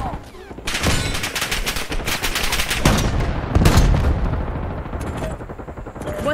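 Rapid bursts of gunfire from the video game Black Ops 6, loud and dense, with repeated shots and volleys running almost without a break, plus a heavier blast partway through.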